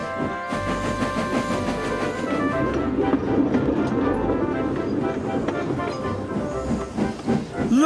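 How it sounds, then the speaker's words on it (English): A model railway steam engine rolls into a station with soft hissing and a rumble of wheels on track, at moderate volume. "They chuffed gently into the station."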